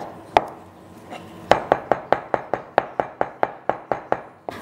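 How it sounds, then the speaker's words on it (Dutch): A knife chops black beans rapidly on a board, sharp, close taps coming in a quick, even rhythm after a few slower opening cuts. "Beetje fijn snijden."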